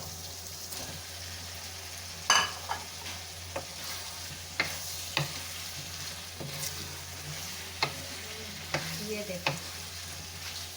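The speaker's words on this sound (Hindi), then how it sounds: "अब हम इसके अंदर आलू ऐड कर देंगे।" Potatoes stirred into mixed vegetables frying in a pan, a quiet steady sizzle broken by a dozen sharp spoon scrapes and clinks at irregular intervals, with a brief spoken remark near the start.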